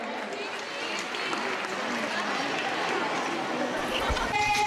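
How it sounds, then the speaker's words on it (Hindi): A school audience at a Lohri celebration at Arya Kanya Gurukul claps steadily in dense, continuous applause, with crowd chatter and voices mixed in throughout. "ताली बजाकर कृपया इनका हौसला बढ़ाएं।"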